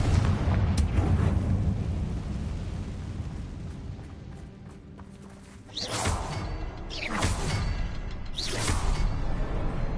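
Confringo fire spell from Hogwarts Legacy: a rumbling explosive roar fades down, then three sharp whooshing bursts hit in quick succession near the end.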